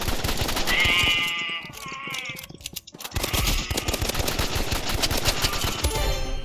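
Rapid pistol gunfire in the Roblox game Rivals, a dense string of close, sharp shots with a brief pause in the middle before firing resumes, over game music and effects.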